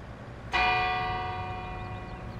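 A single bell strike rings out in the video game Farming Simulator 22, loud and sudden, its long tonal ring decaying slowly over a low background hum; no speech.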